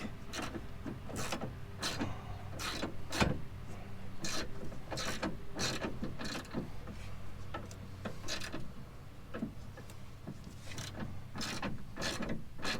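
A ratcheting wrench snugs a 15mm bolt on the rear strut of a Honda Ridgeline, giving a steady run of sharp, evenly spaced clicks up close in a quiet garage, with no talking.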